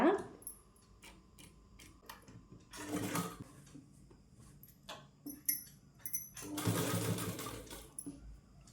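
Sewing machine running in short stitching bursts on a blouse, with a louder sustained whir near the middle and end, mixed with small clicks and handling noises.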